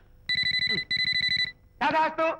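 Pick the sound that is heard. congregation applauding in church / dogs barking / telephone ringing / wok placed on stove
telephone ringing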